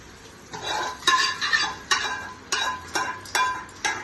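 Eggplant and tomato chutney being mixed in a kadai, with a spoon scraping and knocking against the pan in repeated strokes, close and fairly loud, without talk.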